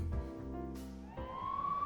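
Police car sirens in the video game Persona 5 Royal, a steady wailing tone over a low hum, fairly faint, with a rising siren sweep toward the end.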